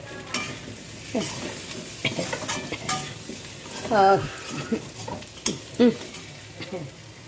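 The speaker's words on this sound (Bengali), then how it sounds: "মশলা কষানো হয়ে গেছে" Spice masala frying and being stirred in a pan while making a light paneer curry, with soft sizzling under repeated scraping strokes and a couple of sharper clinks of the utensil against the pan.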